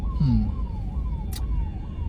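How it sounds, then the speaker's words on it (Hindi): An ambulance siren wails with a steady repeating rising-and-falling tone a short distance away on a road, beneath a constant traffic rumble. "हमारे साइड में थोड़ी दूर एक एम्बुलेंस चल रही है"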